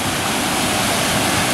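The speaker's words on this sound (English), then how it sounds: "And there is the famous waterfall of Greyfield Woods." A waterfall in the woods roars as a steady, dense rush of falling water, loud and close, with no break and no voices over it.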